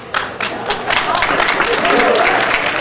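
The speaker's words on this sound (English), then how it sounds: "as I can tell from your applause" Lecture audience claps in loud, dense applause that holds steady for a few seconds, filling the hall, with no speech over it.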